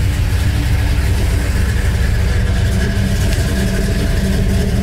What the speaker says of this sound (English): turn the key, and she fires right off